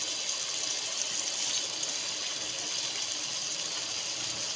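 Soaked cabbage, together with the water it sat in, goes into a pot of potatoes, making a steady rushing, splashing water sound that holds continuously and unbroken, with no talking.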